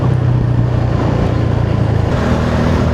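A four-cylinder motorcycle engine runs during a ride, giving a steady, close, low droning hum that barely changes pitch. No voices are heard.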